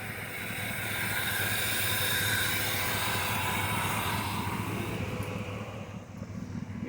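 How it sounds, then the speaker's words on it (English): Dodge Dakota pickup engine with a misfire idling steadily, a low rumbling hum with hiss, fairly quiet and continuous, no voices. "Yeah, so right now it's just idling."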